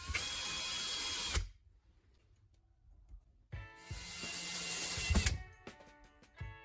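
A power drill drives screws with washers into a wooden board, two loud whirring runs separated by a pause, the second ending in a strained bind and short bursts as each screw seats, close by with no talk.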